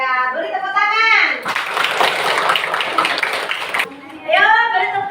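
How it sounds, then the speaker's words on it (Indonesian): A classroom of children bursts into a few seconds of brisk, dense clapping, framed by a teacher's voice speaking before and after. "Ya, beri tepuk tangan."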